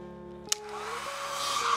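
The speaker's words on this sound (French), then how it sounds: "qui consiste à la chauffer au sèche-cheveux" After a brief click, a hair dryer starts up and blows with a rising, airy whoosh that grows louder close by, heating a cosplay wig.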